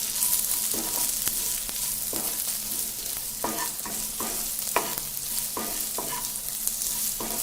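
Beans and carrot fry being stirred in a pan, a steady loud sizzle with repeated scraping strokes of the spatula at a regular rhythm, close up, no talking.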